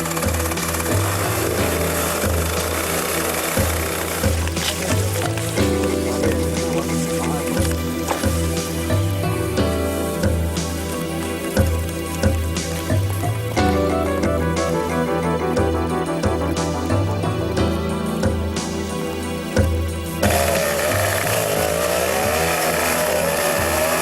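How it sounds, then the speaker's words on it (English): A chainsaw engine roars continuously, revving and bogging as it fells forest trees in Thailand, loud and close, with background music running underneath. "Power flows from the barrel of a chainsaw."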